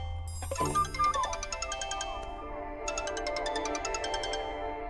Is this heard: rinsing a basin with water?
no